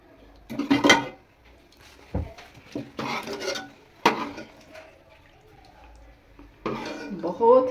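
Achar gosht is served from a pot into a dish, with scattered clinks and scrapes of a spoon against metal in short bursts, mixed with voices talking.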